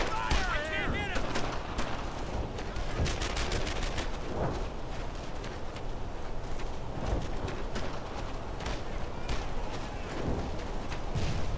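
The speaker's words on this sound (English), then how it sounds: "Covering fire! I'm under fire!" Video game gunfire in the Brothers in Arms: Earned in Blood World War II shooter: repeated sharp shots and rattling bursts crackle over a steady battlefield din, with voices shouting in the mix.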